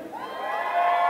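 A youth hockey skills competition crowd cheers and shouts briefly, a rising burst of voices and whoops in an indoor arena.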